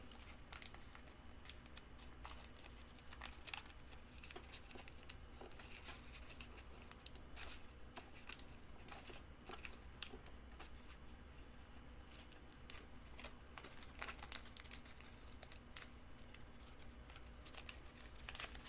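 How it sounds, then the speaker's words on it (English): Thin vellum paper tearing and crinkling at close range in a painting session, a continuous crisp rustle with scattered sharp rips and no voices. "This paper tears very easily,"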